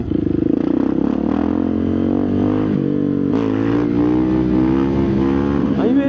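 A Husqvarna 701 Supermoto motorcycle engine revs loudly and close by, a steady throaty drone whose pitch climbs and wavers, rising sharply again at the end.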